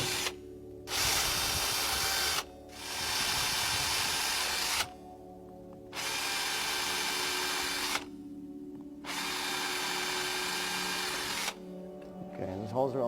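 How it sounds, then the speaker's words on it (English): A power drill whirs in four long bursts, drilling screw holes while fabricating a silicone prosthesis liner, separated by short pauses, close and loud, with a steady hum underneath. "The next thing we're going to do is drill a couple of holes for our screws"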